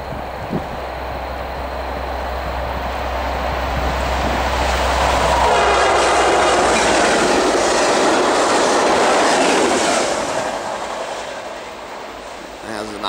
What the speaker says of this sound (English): That was a nice horn salute.